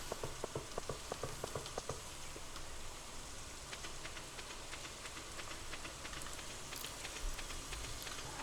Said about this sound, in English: it's dark, it's raining.